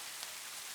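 Steady drizzle of rain, a brief, even, soft hiss of fine drops with no other sounds.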